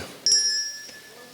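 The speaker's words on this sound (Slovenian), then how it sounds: "Zvonček. Ste ga slišali?" A small hand bell rings once in a quiet room, a single bright clear strike that rings on and slowly fades.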